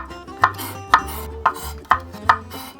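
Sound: knife cutting green onion and garlic

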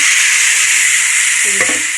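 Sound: stirring cooked vegetables into fried onion and spices

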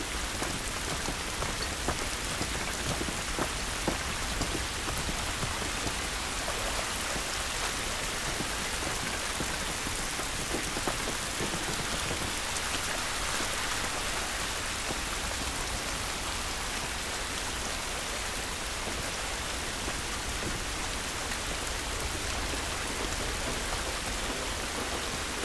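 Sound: rain falling outdoors in the video game The Last of Us

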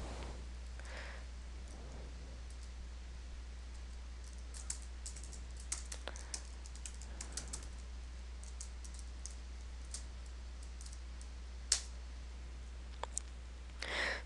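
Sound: typing on a computer keyboard into a spreadsheet

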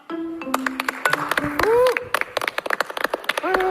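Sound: audience applause welcoming a contestant

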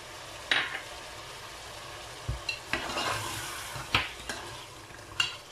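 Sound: stirring whisked yogurt into curry

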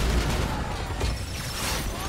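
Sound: turret gunfire in Spider-Man: Miles Morales video game

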